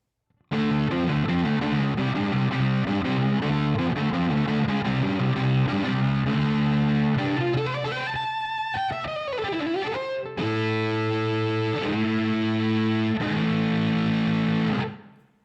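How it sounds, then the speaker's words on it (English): Electric violin played through a Line 6 Helix hair-metal distortion patch on a Marshall Plexi amp model, loud, saturated and sustained, with held notes, a swooping slide in the middle and a final phrase of steady chords. "It's a little bit of a hair metal sound done with a Marshall Plexi model."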